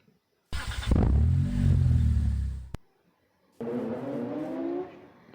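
A car engine in Minecraft revs loudly and roars for about two seconds, then cuts out. After a short silence a second, steadier engine drone rises and holds to the end.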